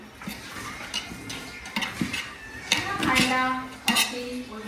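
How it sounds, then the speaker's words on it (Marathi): A spoon stirs kanda poha in a metal pot, with repeated close clinks and scrapes against the pot in an uneven rhythm, and a few faint voices in the background. "आता हे मस्तपैकी ढवळून ढवळून घ्यायचं"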